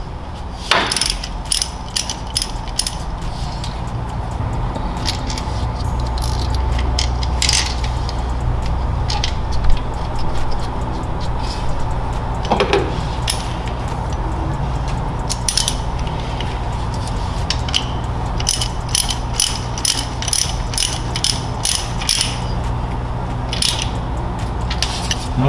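A hand ratchet clicks in rapid, repeated bursts, loosening the bolt that holds a knock sensor on a 1971 GMC during an LS EFI installation, with metallic clatter over a steady background hum.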